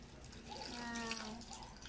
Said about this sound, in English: Now I will water both of them.